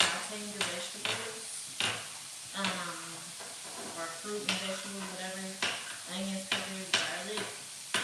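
Vegetables and onions sauté in oil in a pan, a soft sizzle under repeated scraping stirs and clinks of a utensil against the pan, close and moderately quiet.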